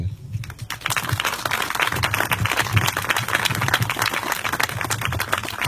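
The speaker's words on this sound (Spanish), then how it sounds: "Un aplauso para mi general." A crowd applauds for a general at a medal ceremony in Mexico, dense clapping that rises sharply after a brief lull and then stays loud and continuous throughout.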